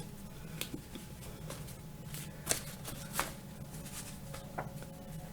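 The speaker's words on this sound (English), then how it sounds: "I'm going to draw some more cards with messages about this situation" Tarot cards are drawn and shuffled close by, making soft papery riffles broken by a few sharper slaps and taps, quiet and with no talking.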